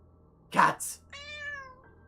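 A cat meows clearly and close by, a short harmonic call following a burst of noise, with a faint second mew trailing off at the end; no one speaks over it.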